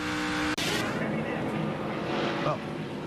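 A NASCAR Nationwide Series race car's engine roars loud and steady from onboard, with a sharp break near the start, and voices talk over it throughout.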